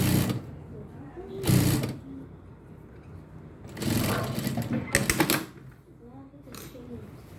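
A sewing machine stitching a readymade dress sleeve, running in several short, close whirring bursts, with someone talking in the pauses between them.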